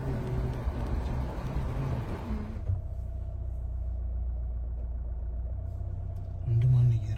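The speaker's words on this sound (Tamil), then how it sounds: "இந்த வண்டி போகிற சவுண்டு தானா?" A vehicle drives at night on the midnight road from Coonoor to Kinnakorai in the Nilgiris, its engine rumbling steadily and low close by. A voice speaks over the engine at the start, and the rumble swells briefly near the end.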